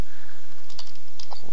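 Someone types on a computer keyboard while entering a commit message, a few quick, light keystrokes close to the microphone over a quiet background.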